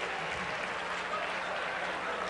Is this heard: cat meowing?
no